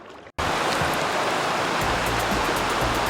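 The Skagit River rushing beneath a big suspension bridge on the Trail of Cedars in Newhalem, a loud, steady broadband roar of flowing water that cuts in abruptly after a brief quiet moment and continues unbroken.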